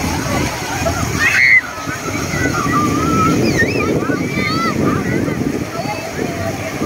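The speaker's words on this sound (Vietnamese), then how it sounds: "Biển nhân tạo rất là đẹp các bạn ơi, như thiệt luôn á, sống mà mạnh ghê luôn á" Strong waves surge and slosh at the artificial sea of Thanh Long on Núi Cấm, a steady close wash of churning water, with crowd chatter and voices running over it throughout.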